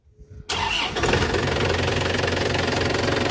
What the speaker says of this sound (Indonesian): mesinnya saya nyalakan terlebih dahulu ya